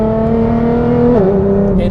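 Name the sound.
tuned Nissan GTR driving around a bend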